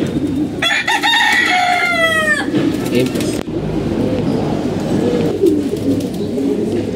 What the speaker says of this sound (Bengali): এই যে মোরগটা পুরানো মোরগ